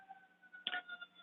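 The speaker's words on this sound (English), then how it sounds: "I've got a siren going by my window." An emergency siren passes outside a window, faint and distant, its steady tones humming through the room with a brief sharp click partway through.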